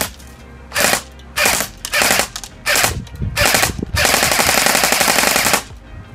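An airsoft Honey Badger rifle fires loud, close, rapid automatic bursts, five short ones separated by pauses, then a longer sustained burst. No talking.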